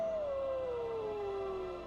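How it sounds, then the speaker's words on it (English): Wolves howl in a misty fantasy forest, the Elden Grove of Valenwood: a single long, loud howl that slides slowly downward in pitch and holds steady over a quiet ambient background. "All around we hear wolves howling."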